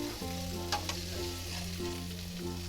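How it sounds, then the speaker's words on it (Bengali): Boiled, peeled potatoes frying in a pan with cumin seeds, a steady close sizzle with a few light clinks of stirring and no talk. "আলু ছুলে আমি হালকা করে আলুটা একটু ভেজে নিলাম"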